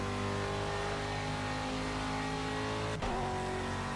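Aston Martin V8 Vantage GTE race car in Project CARS at Le Mans, its engine droning loud and steady with layered harmonic whine, broken by a brief sharp dip and jolt near the end.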